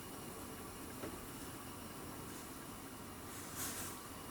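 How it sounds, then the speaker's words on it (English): Herbal cough syrup coming to a boil in a pot on a home stove, giving a steady low bubbling hiss that runs throughout at moderate level with a brief louder surge near the end. "So as you can see, it's started to boil now, which is good."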